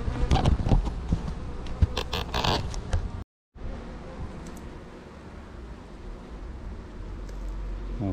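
Buzzing insects swarm close by, loud at first with clicks and bumps, then a brief cut and a quieter, steady hum of bees.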